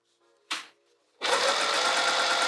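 A sewing machine runs steadily, stitching a zipper overlay onto a bag, a close mechanical whir that starts after a short tap and continues without pause.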